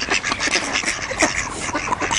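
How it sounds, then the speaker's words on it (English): Ducks quack in a rapid, overlapping chorus at moderate distance, the calls tumbling over one another without pause outdoors near rocks at Almscliffe. "There'll be thousands of duckies here shortly."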